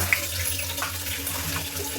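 Water runs steadily from a tap as oil lamps are washed, making a close, continuous splashing hiss with no one speaking.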